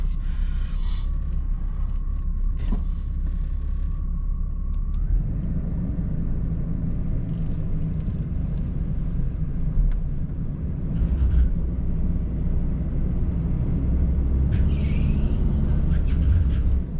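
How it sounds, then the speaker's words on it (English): A 1987 Jaguar engine with a bad misfire idles close by as a low uneven rumble that swells louder partway through, with a high tone and scattered clicks early on. "It's misfiring."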